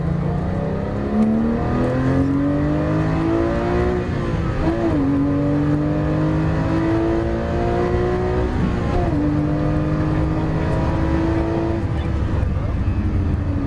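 A car engine on a racing track roars loud and close, rising in pitch as it accelerates through the gears with brief dips at each shift, while a voice talks over it.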